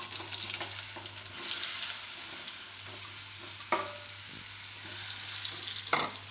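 Cumin crackling in hot oil in a pan, a steady broad sizzle with a low hum underneath and a few sharp spoon taps, fairly close and with no voices.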